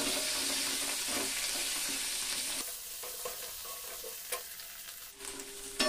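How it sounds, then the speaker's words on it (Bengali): Salted potatoes fry in sunflower oil while being stirred, a bright steady sizzle up close that eases slightly midway, punctuated by a few clicks of the spoon against the pan. "লবণটা দিয়ে আবার একটু আলুটাকে হালকা নেড়ে চেড়ে দেব"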